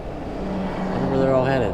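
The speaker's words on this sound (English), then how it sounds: "Here comes a big fifth wheel." A large fifth wheel trailer rumbles past on a road, its engine and tire noise swelling and fading while someone talks over it.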